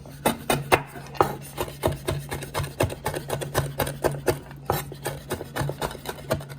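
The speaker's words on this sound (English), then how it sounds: "lemongrass is chopped small as much as possible" A knife chops lemongrass finely on a cutting board, a fast, steady run of sharp close taps with no talking over it.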